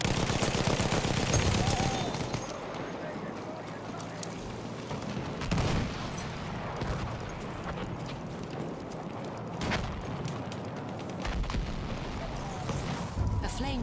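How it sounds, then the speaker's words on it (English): Enemy machine gun fire in the World War I shooter game Battlefield 1, heard as dense, sustained rattling bursts that are loudest at the start and continue under a busy battlefield din throughout. "Enemy machine gun sighted."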